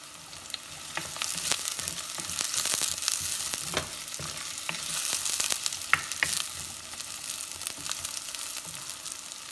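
Small onions and tomatoes sauté in a pan for a village-style Tamil fish curry, giving a steady close sizzle broken by scattered scraping stirs, with no voices.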